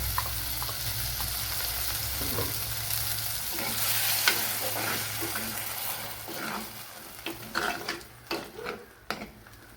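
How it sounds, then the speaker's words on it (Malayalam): Tomato and ground spice paste sizzles steadily in hot oil in a pan, with scraping stirs growing more frequent toward the end, close and moderately loud with no talk. "ഇപ്പോഴിതിനി നല്ലതുപോലെ വഴറ്റി ഓയിൽ തെളിച്ച് എടുക്കണം"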